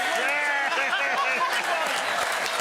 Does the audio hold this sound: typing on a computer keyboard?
no